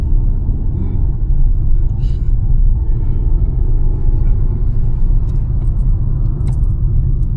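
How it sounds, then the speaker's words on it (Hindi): Learner driver's car on a city road, accelerating and shifting into third gear during a training drive: a steady, close, low engine rumble fills the cabin throughout, with no distinct break at the shift. "इसके बाद स्पीड पकड़ती हैं और ये थर्ड गियर भी लगा देती हैं"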